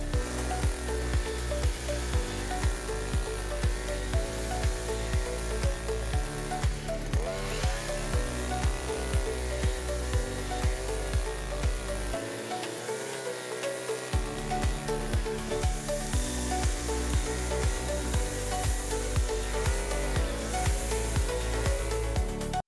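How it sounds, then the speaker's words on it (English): A DGM BC-241 petrol brush cutter mows grass with its mowing head, its engine droning loud and steady with a wavering whine that dips briefly partway through before rising again. "It mows easily, the mowing head does not get clogged with grass."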